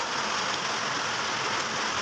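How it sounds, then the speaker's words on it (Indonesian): Steady, dense rain falls outside during repair work on a Honda Revo motorcycle engine with piston and valve knocking, a constant loud hiss with no breaks and no voices. "Posisi hujan ini agak berisik."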